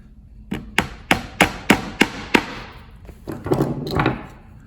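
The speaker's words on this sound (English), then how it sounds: "re-hammer it into one of the new holes, one of the next holes that you drilled" A hammer drives a nail into a drilled hole in a wooden router mandala jig, six sharp evenly spaced strikes followed by a looser cluster of softer knocks, close and clear in a quiet room.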